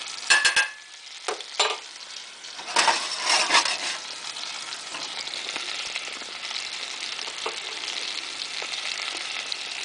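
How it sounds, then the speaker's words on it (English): A chicken and eggplant stew gets stirred in a pot over medium-low heat: a few scraping spoon strokes at the start over a steady soft sizzle that carries on alone afterward. "Give it a stir."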